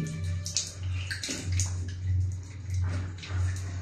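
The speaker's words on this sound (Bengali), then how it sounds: "এখন আমি ধুয়ে ফেলবো ভাতের মার দিয়ে" Face being washed with rice starch water, splashing and sloshing in bursts with a steady low gurgling water sound underneath, close and fairly loud.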